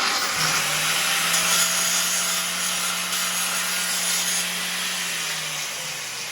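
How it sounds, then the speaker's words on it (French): An angle grinder strips paint off metal ahead of welding in a workshop, a sustained loud grinding hiss with a steady motor whine that eases off near the end. "je vais mettre un petit coup de meuleuse"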